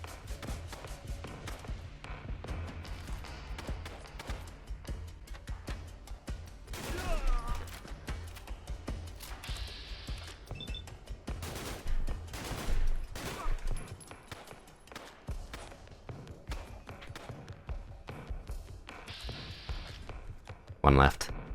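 Rapid gunfire in Fallout: London, with bursts of shots fired through fences among ruins, sharp cracks clustered in volleys that come through under occasional talk.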